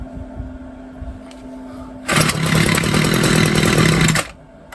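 A string trimmer's two-stroke engine starts on half choke after priming, roaring loud and close for about two seconds with a busy, buzzing drone before dropping back to a low background hum.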